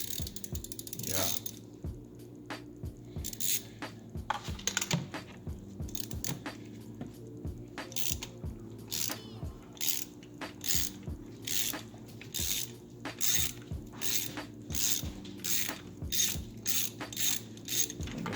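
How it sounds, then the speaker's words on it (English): A ratchet with a 5/8 socket and extension loosens the spark plugs on a BMW E46, giving long runs of quick pawl clicks in bursts, close and moderately quiet, with faint mechanical handling noises in between. "to remove the spark plug, you just need a 5/8 socket. Yeah, and an extension and a ratchet angle."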